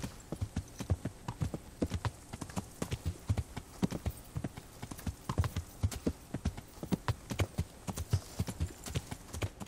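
In Kingdom Come Deliverance, a horse's hooves beat out a brisk, steady clip-clop, each strike crisp and nearby, continuing throughout with no voices.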